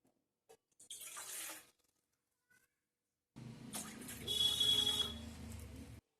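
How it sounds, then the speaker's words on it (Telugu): Water poured from a glass into a bowl on a stove for sugar syrup: a short splashing pour, a pause with small knocks, then a longer, louder stream of running water, close and alone. "ఇలా ఒక బౌల్ పెట్టుకొని అందులోకి 2 గ్లాసెస్ వాటర్ని అయితే యాడ్ చేసుకోవాలి"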